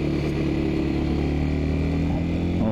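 A 1992 Yamaha Serow 225 dual-sport motorcycle with carburettors runs through traffic, its single-cylinder engine droning steadily and closely at moderate revs without bogging, mixed with surrounding traffic noise.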